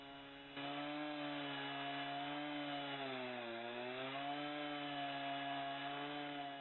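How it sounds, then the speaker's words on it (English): A chainsaw mill (Logosol M7 bar-type sawmill) starts cutting and runs steadily through a log, sawing planks, a loud buzzing whine that dips briefly in pitch under load, with no voices. "sawing your own planks out in the woods"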